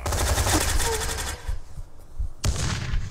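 An AUG assault rifle fires in a video game, a fast close automatic burst of about a second and a half, then a short pause before a second brief burst, with some speech faintly underneath.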